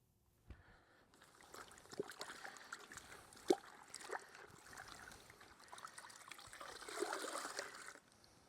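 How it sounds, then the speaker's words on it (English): A wash sponge dips and swishes in a bucket of Griot's rinseless wash solution, soft sloshing and dribbling water with a few splashy squeezes, close and quiet. "I'm gonna dip this in my other media, see if the sponge will come clean"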